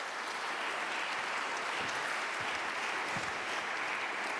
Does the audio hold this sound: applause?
yes